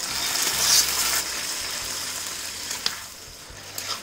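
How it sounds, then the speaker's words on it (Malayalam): Cooked beef poured into a pan with its gravy sizzles loudly over a high flame, a dense, close hiss of frying that swells early and then settles, with occasional small clinks from stirring. "ഫ്ലെയിം കൂട്ടി വെച്ചിട്ടാണ് ഞാനിത് വഴറ്റിയെടുക്കുന്നത്. നമുക്കിതിലേക്ക് ഈ വേവിച്ചു വെച്ചിരിക്കുന്ന ബീഫ് ചാറോടുകൂടി തന്നെ ഒഴിച്ചു കൊടുക്കാം."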